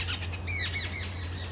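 Agitated sparrows squawk and chirp in a quick, irregular burst of sharp calls over a low steady background hum, fairly close, with no voices.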